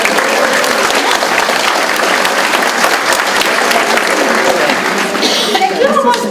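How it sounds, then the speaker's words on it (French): Audience applause at a seniors' gathering in Érable, a steady, dense wash of clapping from a room full of people that carries on throughout, with a few voices mixed in. "on l'applaudit"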